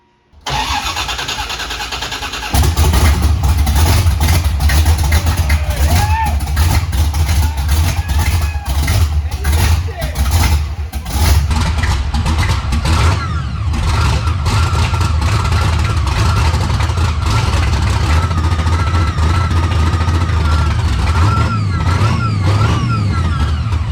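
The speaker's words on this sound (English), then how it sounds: "We're gonna start up the 69 Chevelle today." A 1969 Chevelle with a 427 V8 cranks over and fires up after a brief quiet moment, then settles into a loud, steady, rumbling idle that runs continuously close to the microphone.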